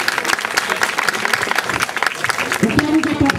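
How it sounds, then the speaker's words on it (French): An audience applauds after a dog finishes an exercise at an SNSM sea rescue demonstration in Brest, with steady, dense clapping throughout and a brief low voice near the end. "on peut applaudir Vicky aussi qui vient de finir son exercice"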